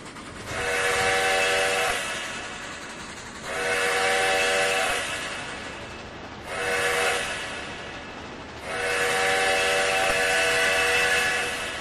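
A steam locomotive whistle in Trainz 2019 on the C&O Hinton route sounds for a road crossing: four long, loud blasts, the third shorter, with gaps between and no talk.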